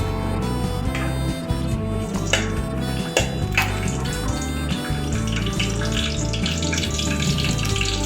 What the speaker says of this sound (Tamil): பட்டை மிளகாய் நல்லாவே வந்து வதங்கிடுச்சு